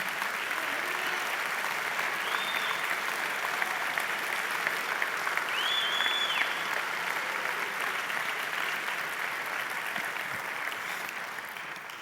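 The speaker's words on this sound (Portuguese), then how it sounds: "Vamos aplaudir Jesus abençoar Jesus com um aplauso." A church congregation applauding during a service, steady sustained clapping at moderate distance, with a few faint whoops or whistles rising above it.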